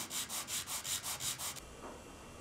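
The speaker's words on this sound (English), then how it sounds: "using a very flat surface and some sandpaper, I'll true it up and make it super flat" A knife part is rubbed flat on sandpaper laid over a very flat surface, giving about eight evenly spaced, close, raspy back-and-forth strokes that stop abruptly, followed by quiet.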